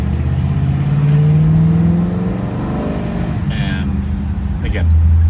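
A 1957 Ford Fairlane Sunliner convertible with an automatic transmission accelerates hard from inside the car, its engine note rising and then shifting as it pulls away. The loud drone holds throughout, with a few short squeaks near the end.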